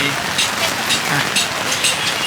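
Heavy rain pours in a steady hiss over an outdoor Thai market during a storm, close and loud, while someone talks over it.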